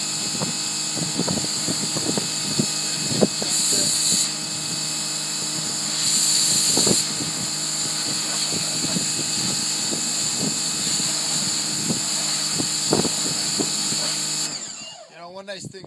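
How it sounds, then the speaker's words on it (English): Campbell Hausfeld PW1835 1800 PSI electric pressure washer with an instant-on pump, running steadily up close with a continuous motor whine and scattered clicks under speech, cutting off at the end. "And it's instant on pump, so whenever he pulls the triggers,"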